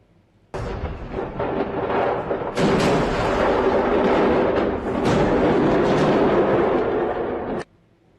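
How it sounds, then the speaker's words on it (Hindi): A fireworks factory in Malta explodes with a sudden loud boom, followed by a continuous roaring rumble with a second sharp burst partway through, then cutting off abruptly. "उधर माल्टा में आतशबाजी का सामान बनाने वाली फैक्ट्री धमाके से फट पड़ी"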